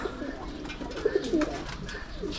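Soft, low pigeon coos repeat a few times against a steady background hum, moderately close but quiet.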